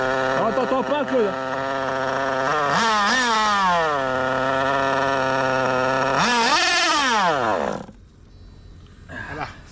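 A small, high-pitched nitro engine in a Serpent 950r RC car buzzes and revs up and down in whining sweeps, loud and close, then cuts out abruptly near the end.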